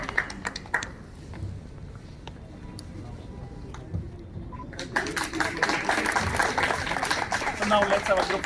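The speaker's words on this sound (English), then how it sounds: "Give him a big round of applause." Faint murmur at first, then a crowd at a school alumni meet breaks into sustained clapping that grows louder and continues to the end.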